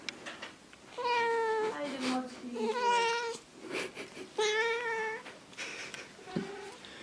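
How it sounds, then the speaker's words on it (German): A chatty cat meows repeatedly in a string of drawn-out, rising and falling calls, close and clear, with soft human murmurs between them. "so eine richtig redebedürftige Katze, die redet immer"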